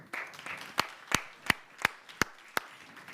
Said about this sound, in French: on peut l'applaudir avec Colline Pichot.